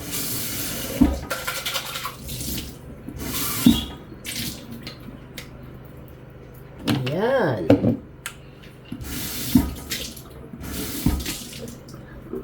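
New NutriBullet 600 series blender parts are rinsed under a running kitchen tap, with splashing water in bursts and a few clinks of plastic pieces, while someone talks over it.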